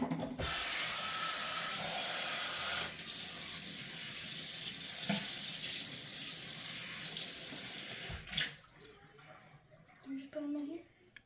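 Dishes being washed at a sink under a steady running tap, water hissing continuously for several seconds with clinks, then cutting off, while a person talks over it.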